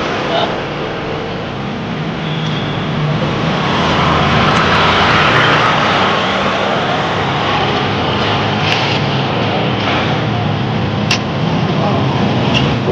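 A helicopter flies overhead, its broad, steady rotor and engine roar loud and close for the whole stretch without fading, with people's voices faintly mixed in.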